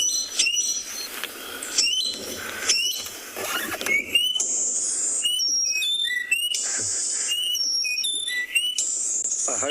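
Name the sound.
bird call played from a phone app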